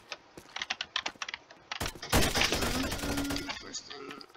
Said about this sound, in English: First thing, classic shotgun, and then this.